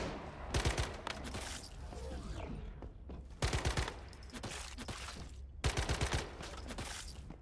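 Sniper fire in the game Once Human: bursts of rapid, loud gunshots come in three clusters roughly every two and a half seconds over constant background noise.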